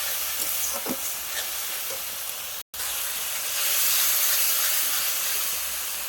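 Spices tipped into hot oil in a pan while cooking raw jackfruit with prawns, a steady loud sizzling hiss that briefly cuts out, then returns stronger and continues evenly.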